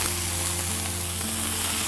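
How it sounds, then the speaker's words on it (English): Gilafi kebab coated with bell peppers frying in a hot pan, an even, close crackling sizzle that holds steady without pause. "you can hear the sizzle"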